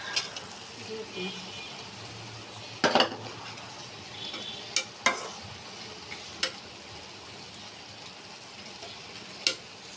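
Garlic going into a pan of greens and spices frying for dried-fish bhuna, a low sizzle broken by several sharp clinks and scrapes of a spoon against the pan, with faint voice-like murmur.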